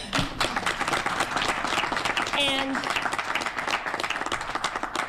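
Audience applause rolls through a room of listeners, dense clapping layered under a speaking voice and a brief tonal cry partway through.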